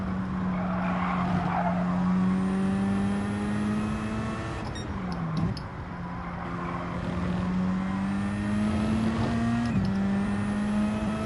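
Race cars in Gran Turismo 7 hold loud, sustained high-revving engine notes that dip briefly between gear shifts, several engines layered together and continuous throughout, with no talk.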